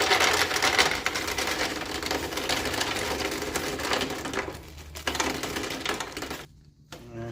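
Hardware nuts from a thrift-store bag and heavy lug nuts poured into a 1969 Ford Econoline van's rusty gas tank, making a dense, continuous metallic rattling and clattering that runs for several seconds, then abruptly stops near the end.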